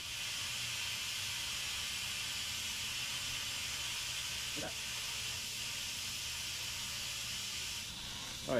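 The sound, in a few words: Instant Pot pressure cooker venting steam through release valve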